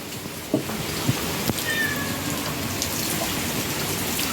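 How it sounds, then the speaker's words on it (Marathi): Steady rain hisses across the whole stretch, a dense even wash of falling water with a few soft thumps and a faint bird-like chirp in the middle. "सकाळपासून भरपूर पाऊस आहे आमच्याकडे"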